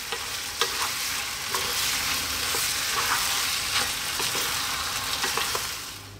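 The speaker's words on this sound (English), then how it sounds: "I'm going to be throwing this around in here. Really wanting that pasta to get that sauce on it." Pasta being tossed and stirred through sauce in a pan, a steady wet sizzle with scraping and clattering stirs, close and continuous throughout with no talking.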